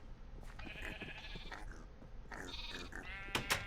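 Several sheep bleat in a Minecraft-style survival game, TerraFirmaPunk, with wavering calls near and distinct, ending in a couple of sharper sounds.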